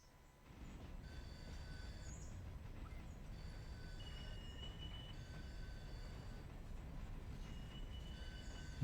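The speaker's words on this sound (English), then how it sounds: "And that's how you turn the train around." Train in the video game Railroader running steadily with a broad continuous rumble of wheels and rail noise, faint high squeals drifting in and out, with no talk.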